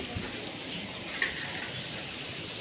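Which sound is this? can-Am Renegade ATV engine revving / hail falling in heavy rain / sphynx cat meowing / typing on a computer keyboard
hail falling in heavy rain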